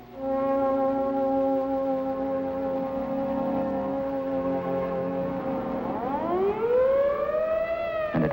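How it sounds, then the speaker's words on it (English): A civil defense siren wails in a steady sustained tone during a 1958 atomic evacuation plan, then its pitch swoops upward as it winds up again, loud and alone. "as directed by the mayor, the siren sounds once more"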